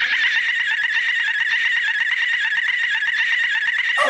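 A human voice imitating a dolphin call: a continuous high, rapidly pulsing squeal held steadily for about four seconds before breaking off abruptly.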